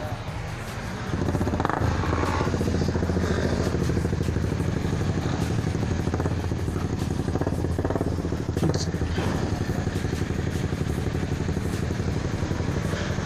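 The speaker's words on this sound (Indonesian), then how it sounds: "Jai itu knalpot berisik sumpah." A motorcycle fitted with a loud racing exhaust runs close by, a harsh steady engine roar with rattling clatter that holds throughout, while faint voices sound beneath it.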